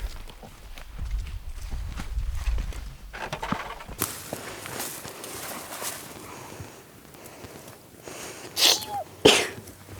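A person sneezes outdoors amid soft footsteps and rustling, the sneeze a sharp burst near the end of an otherwise quiet stretch.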